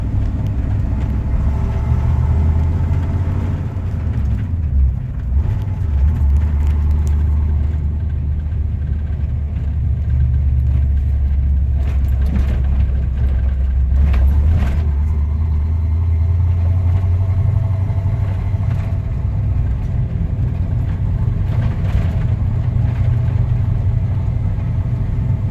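A 1988 Ford F-150 5.0 pickup engine, running poorly, idles with a low, uneven rumble for a long stretch, steady and close, with occasional faint knocks and no speech.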